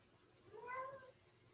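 Cat meowing close into a microphone: one drawn-out, rising and falling meow swells in the middle and fades, faint over a quiet room background.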